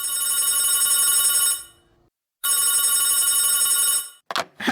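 An old telephone bell rings loudly in two long, harsh metallic trills separated by a brief silence, followed by a short clatter as the ringing stops.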